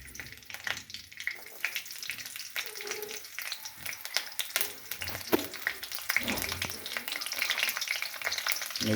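Finely chopped green chillies and curry leaves fry in hot oil with popped mustard seeds as poha is prepared. A dense, crackling sizzle runs throughout, with sharp pops and stirring scrapes.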